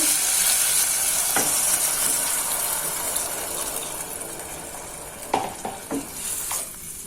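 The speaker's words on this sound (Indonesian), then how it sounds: "Dan di sini akan saya masukkan air." Water poured into a pan of sautéed chicken, a steady hissing sizzle and gush that fades and then gives way to a few stirring clinks near the end.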